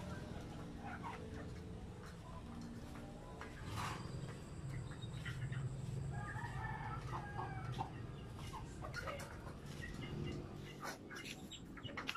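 Chickens cluck steadily close by in a coop, with a rooster crowing partway through over a low background hum.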